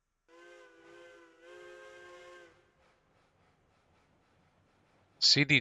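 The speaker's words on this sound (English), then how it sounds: "the whistle, and it sounds great, but it's like missing grunt" Steam locomotive whistle in the train game Railroads Online: two sustained chime-like blasts with a short break between them, followed by quiet and then a loud, harsh burst near the end.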